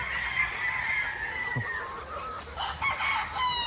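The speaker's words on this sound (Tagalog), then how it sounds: "Meron na palang nagtitilaok na, marami na, no?" Several roosters crow over one another at varying distances, their calls overlapping in a continuous, raucous chorus, among gamefowl in San Pedro, Laguna.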